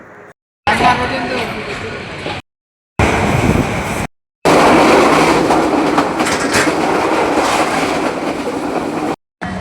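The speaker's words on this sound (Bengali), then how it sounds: "আমরা এখন চট্টগ্রাম রেল স্টেশনে নামলাম" Passenger train pulling into Chattogram railway station in Bangladesh, loud and close, with a steady rumble and clatter of wheels broken by short gaps, as people talk over it.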